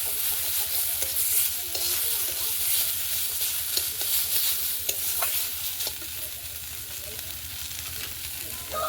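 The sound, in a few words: frying vegetables with ginger-cumin paste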